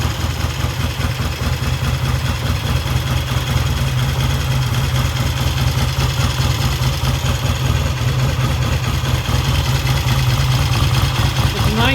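A cold 1968 Triumph T100C motorcycle, converted to twin carburetors and bored out to 600 cc, idles with a loud, steady, close-up engine throb that carries on without a break.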